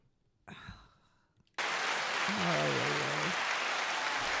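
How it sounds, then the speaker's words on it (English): Studio applause during a casual two-host podcast, a dense sustained wash of clapping that bursts in loud after a brief quiet stretch, with a voice or tone wavering underneath partway through. "That's too long of an applause"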